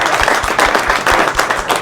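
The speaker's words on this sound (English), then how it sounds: "round of applause if you think I deserve it" An audience gives a short round of applause at a tech demo night, with dense clapping that holds steady for a couple of seconds.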